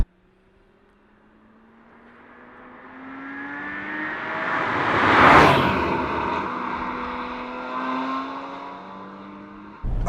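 A Porsche Cayman engine revs steadily higher toward the red line, its note climbing and swelling loud to a peak midway, then holding a strained high whine before cutting off abruptly at the end.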